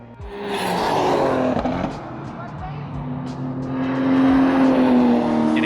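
BMW E36 M3 track cars come down the front straight at Buttonwillow, engines roaring with pitch climbing through the gears as they pass close by, loud and continuous.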